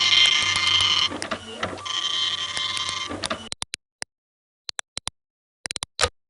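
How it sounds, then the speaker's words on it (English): Cyber printer printing in the Space Quest 6 video game, a bright mechanical whirring and chattering in two bursts, then a scatter of sharp isolated clicks and ticks over silence. "The cyber printer accepts your cyber file gratefully and begins to print."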